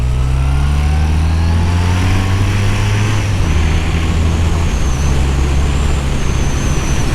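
A 41-year-old BMW R100CS Airhead motorcycle is being ridden, its boxer twin giving a deep, steady, loud drone with a low throbbing rumble and constant wind rush from start to end.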